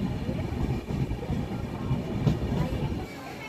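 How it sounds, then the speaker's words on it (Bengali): Passenger train rolling along the rails near Puri in the morning, a steady low rumble with faint rhythmic clatter heard from inside the carriage, continuous and moderately loud with no talk. "দেখো আমাদের ট্রেন এখন পুরীর সামনাসামনিই চলে গেছে অনেকটা।"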